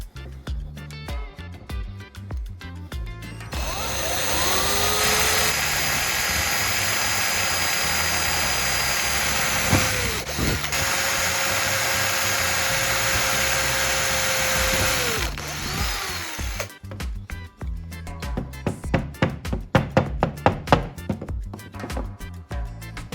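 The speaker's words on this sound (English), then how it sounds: "I'll drill a couple holes through the wooden pieces to insert bolts" Power drill boring holes through wooden pieces for bolts, a sustained loud whine lasting several seconds with pitch dips as it bites, framed by clattering handling noise before and after.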